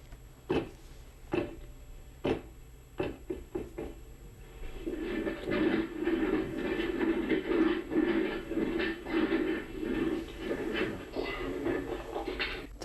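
Floor impact noise recorded upstairs in an apartment: several sharp knocks and thuds at first, then a sustained stretch of shuffling, rumbling footsteps and movement, moderately loud with low-end thumps.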